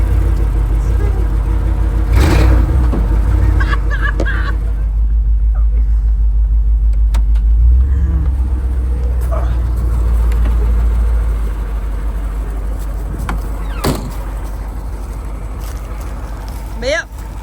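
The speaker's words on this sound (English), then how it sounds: "that's my two-wheel drive monster truck" A two-wheel drive mud truck on straight axles revs loudly, with a deep rumbling engine and bursts of spinning wheels across a long stretch, while voices come and go underneath.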